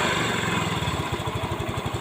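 A Yamaha Mio Soul GT 125 scooter engine idles close by with a steady, slightly uneven low putter and a faint high whine, running alone without voices.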